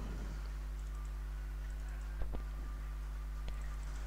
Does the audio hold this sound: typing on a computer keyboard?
yes